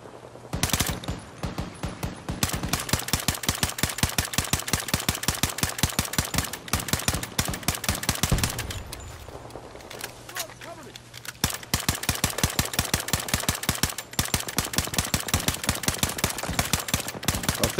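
Battlefield 2042 Hazard Zone gunfire crackles in long rapid automatic bursts, loud and close, broken by a short lull, with a player talking at times over it.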